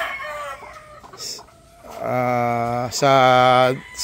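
Gamefowl broodcocks of Boston lines cluck softly, then a rooster gives two loud, close crows in quick succession.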